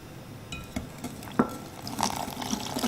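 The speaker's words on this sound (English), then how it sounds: "Pour it into the mixture of the eggs and the granulated sugar and whisk it together." Fresh lemon juice trickling and splashing into a bowl of eggs and sugar with faint clinks, a soft steady pour building slightly toward the end, close and fairly quiet.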